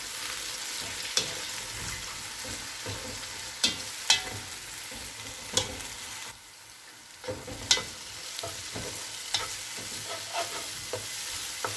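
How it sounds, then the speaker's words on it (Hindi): Ginger garlic paste fries in a pan for brinjal bharta, a steady close sizzle broken by a dozen or so sharp spoon scrapes and clinks as it is stirred, with a brief quieter lull midway. "अब इसमें अदरक लहसुन का पेस्ट डाल देंगे। पेस्ट को अच्छे से भून लेंगे।"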